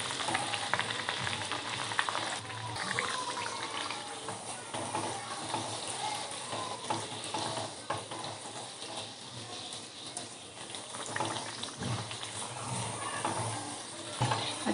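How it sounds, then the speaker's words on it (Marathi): Sweet cucumber vada frying in hot oil hisses in a steady, dense sizzle that lasts throughout, with small bubbling crackles and occasional soft scrapes. "तुम्हाला आता वडा तळून दाखवते. हे असं अलगद तेलामध्ये सोडून द्यायचं"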